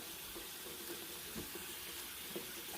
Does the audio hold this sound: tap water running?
yes